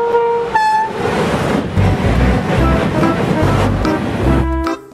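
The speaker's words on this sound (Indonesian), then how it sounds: "Yang ini ada kereta cepat." A toy high-speed train plays its electronic horn toots, then a loud rumbling run of rail clatter with rhythmic thumps, ending abruptly after about five seconds.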